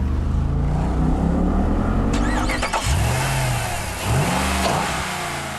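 A 6.1-litre Hemi V8 revs hard and close, with loud throttle blips that rise and fall in quick sweeps and a barking exhaust note from the tailpipes.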